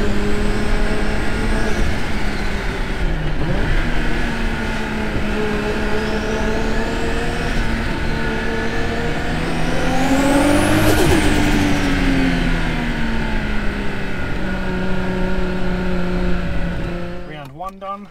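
A Nissan Laurel C33 with a forged RB25DET turbo engine drives a hill road. The engine revs up and down through gear changes, loud and close from inside the car, with talk over it.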